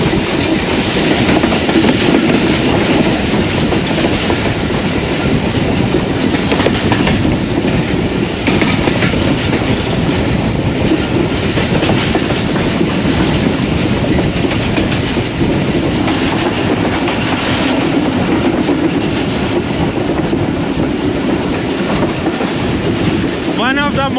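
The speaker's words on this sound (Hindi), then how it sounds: "बहुत ही खूबसूरत कर्व लेते हुए ट्रेन" A train rolling through a curve on the Lahore line, wheels keeping up a loud, steady clickety-clack that fills the whole stretch close by, with no break in the rumble and a faint squeal near the end.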